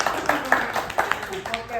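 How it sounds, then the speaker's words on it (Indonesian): Classmates in a group presentation clap briefly in a quick, even rhythm, several claps in under two seconds, moderately close and mixed with a faint voice. "Tepuk tangan dulu ya teman-teman semua"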